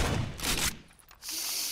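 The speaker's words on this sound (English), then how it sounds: "Why do I hear lots of shotguns?" Shotgun blasts go off in the video game Rainbow Six: Vegas 2, a couple of loud, harsh bursts in quick succession with a short gap between them.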